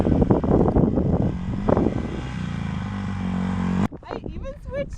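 A dirt bike engine drones loud and steady with rising harmonic tones as it revs under way, mixed with chatter and wind noise, then cuts off abruptly near the end, leaving excited voices talking.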